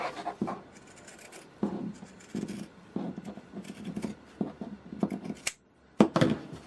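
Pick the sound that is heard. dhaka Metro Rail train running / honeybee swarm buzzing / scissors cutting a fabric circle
scissors cutting a fabric circle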